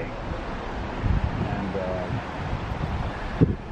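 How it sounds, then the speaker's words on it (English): Gusty wind on a very windy day buffets the microphone in low rumbling bursts, with rustling noise throughout and a brief spoken word near the start. "it's a very windy day."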